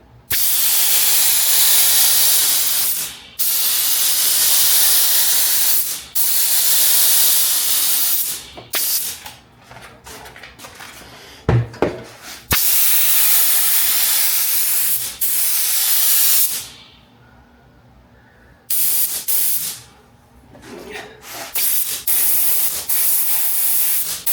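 Spray gun coating trimmed material during reassembly of a Jaguar MKII, loud hissing bursts of several seconds each, repeated about seven times with short pauses between.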